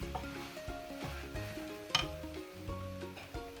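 Ground garam masala is stirred into a frying pan for vegetable biryani, a soft sizzle under repeated scraping strokes of a spoon against the pan in a steady rhythm, close up, with no talking.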